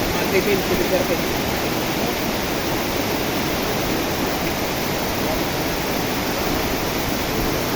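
Rushing floodwater during Typhoon Carina roars as a dense, continuous wash of noise, loud and steady throughout with no clear pauses.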